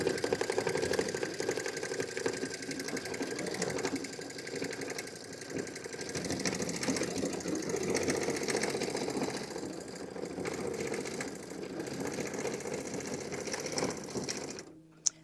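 Quilting machine stitching with a misaligned pattern after recalibration, a fast steady mechanical chatter running continuously at close range, ending with a brief click as it stops.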